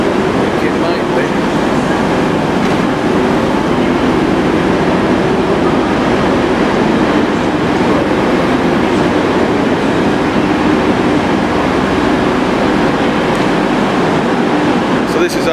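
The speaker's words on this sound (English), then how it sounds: "So this is our next train now." Train pulling into a station on the Stalybridge line, a loud, steady rumble with rail noise and faint clatter filling the whole stretch, with no pause.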